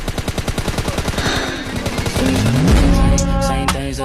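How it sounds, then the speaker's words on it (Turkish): Rapid automatic gunfire from PUBG Mobile Lite, a dense run of loud, evenly spaced shots for about two seconds, then a swelling whoosh and scattered impacts with a tonal game effect near the end. "O küçücük aradan adamı vuruyorum bak."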